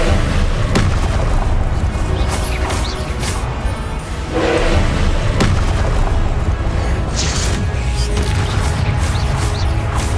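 Confringo spell blasts in the video game Hogwarts Legacy boom loudly again and again amid heavy, constant combat noise, with several sharp explosive hits and whooshes close up.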